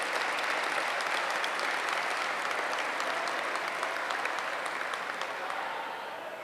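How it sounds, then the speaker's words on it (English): A banquet-hall audience at a gala dinner applauds with sustained, dense clapping. It sounds moderately loud and stays steady, then begins to taper toward the end. "And let's have a round of applause for him."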